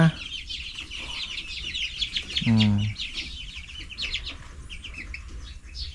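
Chickens, mostly mixed-breed birds kept for slaughter, cluck and call at a public market in Arayat, with a brief louder squawk near the middle over busy, steady background noise.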